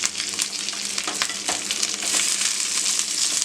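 Onion, capsicum petals and slit green chillies sauté together in a hot pan, giving a steady, close sizzle with faint stirring scrapes throughout.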